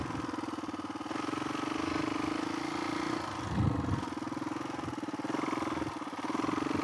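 A Suzuki DRZ400E stroker big-bore dirt bike with wide-ratio gears runs steadily on a trail ride, a loud, close, continuous engine drone with a brief throttle swell in the middle and no talking.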